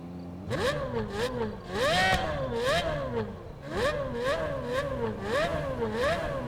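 An Apollo sports car engine in the video game Test Drive Unlimited Solar Crown revs repeatedly, rising and dropping in pitch through several quick gear shifts, loud and steady throughout.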